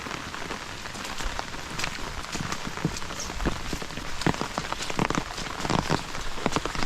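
Steady rain falls and patters on surfaces, a dense continuous hiss broken by scattered sharper drops and taps, fairly close and even throughout.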